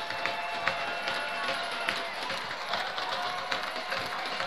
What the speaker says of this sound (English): Crowd is on their feet making a lot of noise